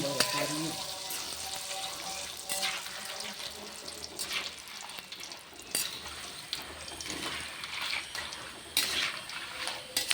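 Onam upperi crackles in hot frying oil, a soft, steady sizzle with occasional sharper pops and scraping, fairly quiet and close, with no one talking.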